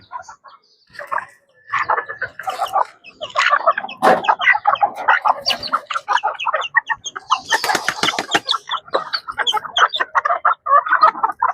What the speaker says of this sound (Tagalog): Yan ang sisiyo.